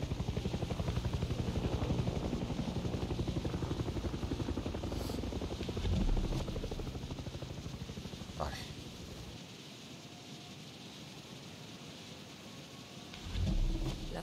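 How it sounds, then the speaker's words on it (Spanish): Helicopter in the video game Far Cry 6, a steady loud rotor drone with a rapid chopping pulse that gradually fades, with brief impacts and whooshes near the end. "Chao, helicóptero."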